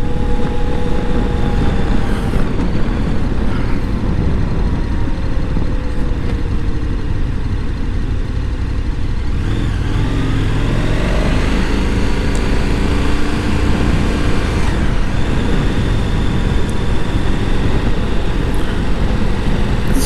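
A 2023 KTM 1290 Super Adventure S motorcycle engine pulls steadily while riding, with a constant loud drone, rising and falling revs as gears change, and heavy wind rumble throughout.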